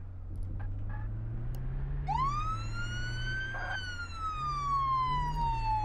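Police car siren in the Flashing Lights emergency services simulator, a loud wailing tone that rises and falls over a steady engine hum, heard alone without talk.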